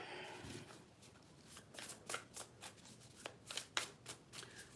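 A tarot deck is shuffled close up, giving a quick series of crisp riffling, flapping bursts in an irregular rhythm.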